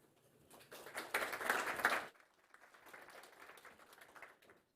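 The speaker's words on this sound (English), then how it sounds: "Big applause for Daniel Nicolae." A crowd at a startup competition final applauding, a dense burst of clapping that swells and then drops to lighter, thinner clapping before fading out.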